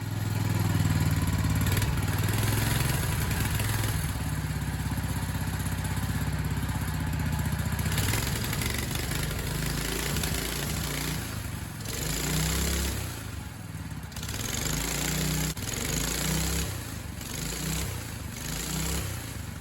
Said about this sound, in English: I'm going to stick this thing down on the floor and see if it will even attempt to move with me on it.